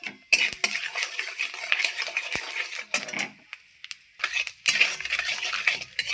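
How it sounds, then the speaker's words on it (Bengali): Bay leaf, a dried red chilli and five-spice seeds crackle in hot oil, a busy, spluttering sizzle with sharp pops and brief quieter gaps. "তেল গরম হয়ে গেছে, এবার ফোড়নে দিয়ে দিচ্ছি আমি একটা তেজপাতা, একটা শুকনো লঙ্কা আর একটু পাঁচফোড়ন"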